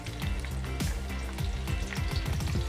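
Green chillies frying in hot oil in a handi for a bhindi aloo sabzi, giving a steady close sizzle with crackling bursts and a few soft thumps throughout.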